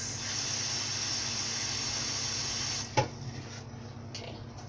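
A kitchen sink tap runs steadily with a hissing water stream for about three seconds, then shuts off, followed by faint clinks and soft handling sounds nearby.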